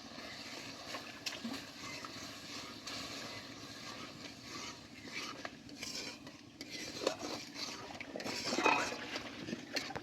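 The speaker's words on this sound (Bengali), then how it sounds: "দিয়ে মশলাটা আমি ভালো করে কষে নেব।" Spice paste for a coconut pointed gourd curry is sautéed in a pan, with scattered spatula scrapes and clinks against the metal over a low, steady frying hiss, close and quiet.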